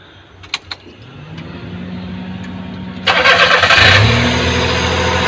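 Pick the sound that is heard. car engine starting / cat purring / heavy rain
car engine starting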